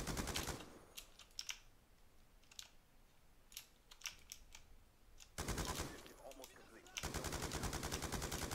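Rapid automatic gunfire from the video game Black Ops 2 comes in sharp bursts, with scattered single shots between them and two long sustained volleys near the end.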